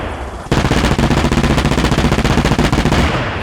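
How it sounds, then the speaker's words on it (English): The nose-mounted chain gun of an Mi-24 Hind helicopter in the Arma Reforger video game fires a loud, sustained burst of rapid, evenly spaced shots lasting about three seconds, then cuts off. "Let's say you want to use our chain gun up front."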